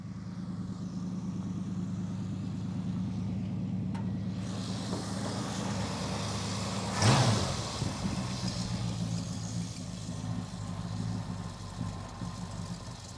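A Dodge Charger engine idles with a low, steady rumble on gravel, holding a smooth, continuous note that swells briefly midway before settling back.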